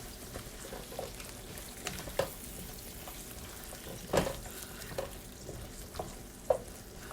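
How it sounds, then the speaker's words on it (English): Carrots simmering slowly in a bourbon brown sugar glaze in a pan over lowered heat, a soft continuous bubbling sizzle with a few faint pops and stirring scrapes spread through. "Because now I want it to simmer slow."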